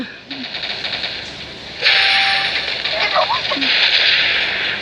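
An M16 LMG machine gun in the video game Headshot fires in sustained bursts, loud and continuous, with a voice talking over the gunfire.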